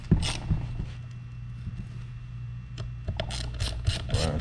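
A ratchet tightens the hub bolts on a Onewheel+ XR board, giving a series of close mechanical clicks in short bursts, with louder clustered clicking toward the end over a steady low hum.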